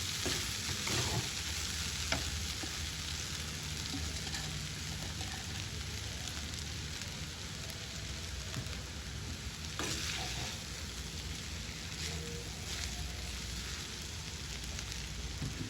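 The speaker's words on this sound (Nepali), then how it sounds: "यसलाई अब कराईलाई एउटा रुमालले समातेर यसलाई यस्तो मजाले भुट्नुपर्छ नि।" Chowmein stir-fried in a karai wok, stirred and tossed over the heat: a steady, dense sizzle and frying hiss with scraping stirs throughout, close and continuous, with no talking.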